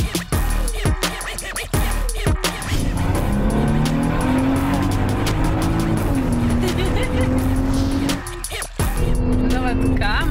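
A Maserati Levante drives with a loud continuous engine roar, and tires squeal in drawn-out tones across most of the stretch, with brief gaps; people talk throughout.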